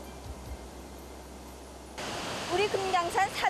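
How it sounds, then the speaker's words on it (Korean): Eogyeong Falls, a two-tier waterfall 31 m tall in Inner Kumgang in the Kumgang Mountains, makes a steady, even rush of falling water. Louder tonal sounds join over it about halfway through. "우리 금강산 4대 비용폭포의 하나인 어경폭포입니다."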